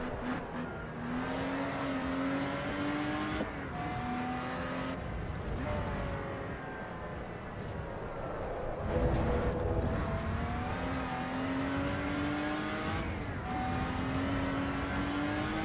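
A race car in the Assetto Corsa Evo driving game revs and shifts continuously, engine pitch climbing and dropping through gear changes with a loose rear end, steady and loud with no talking.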